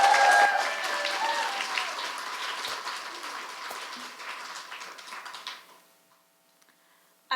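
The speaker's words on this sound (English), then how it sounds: "So please, a round of applause for Cassia." An audience at a Denver stage event for poetry and personal stories applauds a poet, dense clapping that thins and fades into near silence toward the end.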